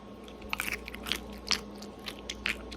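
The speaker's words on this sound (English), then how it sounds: "let me taste it and see if they're crunchy." Several crisp crunchy bites into a cubed refrigerator dill pickle, sharp crackling bursts spaced about half a second apart, close and fairly quiet, no talking.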